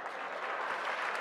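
Audience at a round table discussion breaks into dense, steady applause, a continuous wash of clapping with no pauses.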